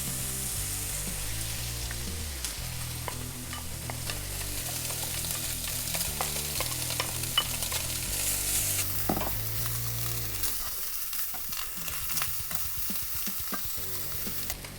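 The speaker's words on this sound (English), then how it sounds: "Next, add your bacon." Bacon frying in butter in a heated pan gives a continuous, fairly quiet crackling sizzle, with stirring clatter and a shift in tone near the end.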